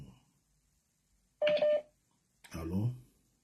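Telephone dialing tones, two short bursts of keypad tones with a pause between, close and clear against near silence.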